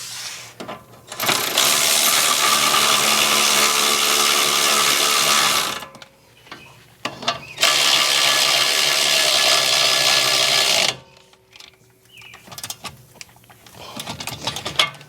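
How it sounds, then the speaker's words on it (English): An impact wrench drives the axle nut on a VW Jetta in two long, loud whirring bursts of several seconds each, separated by quieter handling clatter. "Tighten this nut up."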